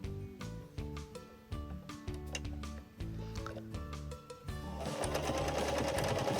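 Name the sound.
sewing machine stitching a fabric pocket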